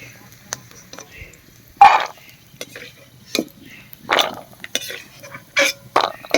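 Fried peanuts are scooped out of a wok of hot mustard oil, with sporadic metal scrapes and clinks of a spatula over a faint sizzle while a person talks.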